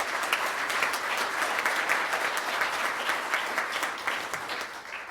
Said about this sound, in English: Please give everybody a big round of applause.